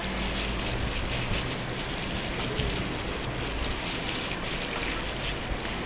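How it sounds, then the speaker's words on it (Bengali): Pointed gourd frying in oil with salt and turmeric, giving a steady, dense sizzle that fills the clip at an even level, with no voices. "নুন হলুদ দিয়ে পটলটাকে লাল করে একদম ভেজে নেবেন।"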